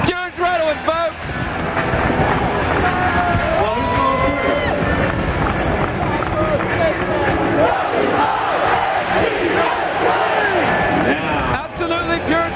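Loud arena crowd at a 1998 NLL indoor lacrosse game, Baltimore at Philadelphia, cheering and yelling continuously for the full stretch, dense and close with scattered shouts and whistles.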